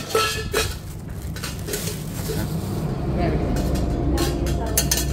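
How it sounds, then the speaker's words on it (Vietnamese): An air fryer pot and its strainer basket clatter as they are handled, with several clinks and knocks among nearby talk. "Ca chiên dầu không nhá."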